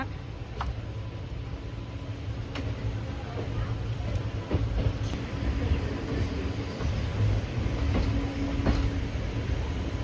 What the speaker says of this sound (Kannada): ನೋಡಿ ನಮ್ಮ ಟ್ರೈನ್ ಯಾವ ರೀತಿ ಕರು ಹೊಡಿತಾ ಇದೆ ಅಂತೇಳಿ